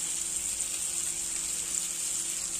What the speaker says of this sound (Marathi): आता हे परतून घेऊया।